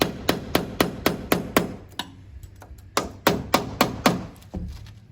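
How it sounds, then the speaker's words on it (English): A metal window frame is tapped with a tool to free it from the inside sill, giving a series of sharp, loud knocks in two quick rhythmic bursts with a short pause between, close up and with no talking. "And I'm even going to tap it just to make sure that we're completely loosened from the inside sill as well."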